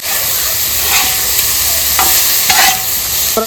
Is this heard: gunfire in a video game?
no